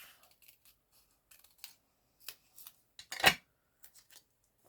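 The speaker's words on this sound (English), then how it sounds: "So I'm going to do the same thing. I'm going to cut this edge off." Scissors snip the edge off a piece of card stock while a shaker card is being made. The scattered, crisp cuts come close and fairly quiet, with one louder, longer snip near the end.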